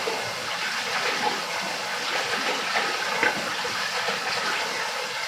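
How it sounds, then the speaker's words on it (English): Water sloshes and gushes continuously while salt is stirred in to dissolve in a tub, a steady close wash of liquid noise with no talking. "so all I'm going to do is just mix that around"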